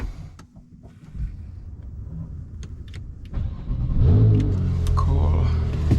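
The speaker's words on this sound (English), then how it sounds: "I already had the Porsche started, so it won't be a completely cold start." A Porsche 911 991.2 GTS idles after a warm restart, a low steady engine rumble that rises into a fuller, louder drone partway through, heard close up with some light handling noises and a brief voice.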